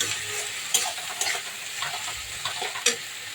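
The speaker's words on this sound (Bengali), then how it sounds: "এবার ভালো করে এটাকে কষিয়ে নেবো।" Spices with chili powder stirred and fried in a pan, a steady soft sizzle broken by a few sharp scraping clicks of a spoon against the pan, with no voices.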